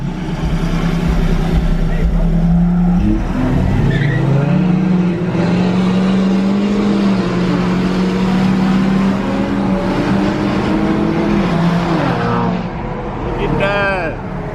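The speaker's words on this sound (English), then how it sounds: "He getting that turbo spooled up, bro." A lifted turbocharged Ford F250 truck accelerates hard in a street race, its engine droning loud and steady with rising pitch, mixed with road and wind roar, while people talk excitedly nearby.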